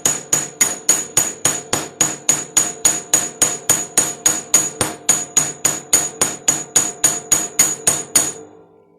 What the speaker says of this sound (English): Hold your chasing hammer on the ball part, the bulb end here for better